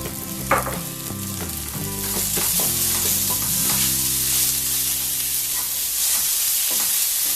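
Onion and tomato sautéing in a pan with salt for soya chunks ularthiyathu, a loud steady sizzle with stirring scrapes and clatter close by.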